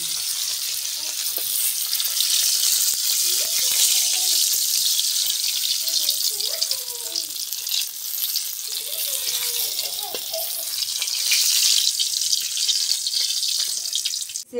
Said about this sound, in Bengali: এখন মাছ ভাজা নামাবো